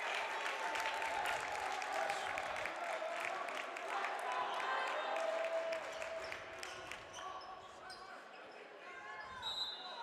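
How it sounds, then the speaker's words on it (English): A high school basketball crowd roars after a steal, sustained cheering and clapping filling a gym, with squeaks and a commentator talking over the noise. "that got the crowd to their feet"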